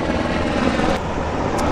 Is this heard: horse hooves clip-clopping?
no